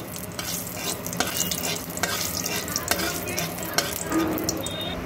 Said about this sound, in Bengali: তেলের মধ্যে দিয়ে দিচ্ছি হাফ চামচ কালো জিরে আর একটা গোটা শুকনো লঙ্কা ফোড়নে